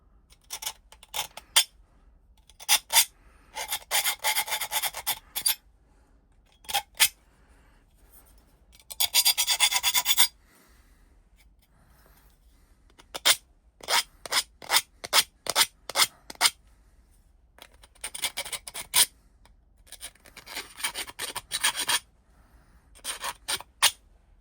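Slots are opened up in a model locomotive boiler part with a hand file, giving bursts of sharp rasping strokes in quick rhythmic runs, separated by short quiet pauses, close and clear with no talking.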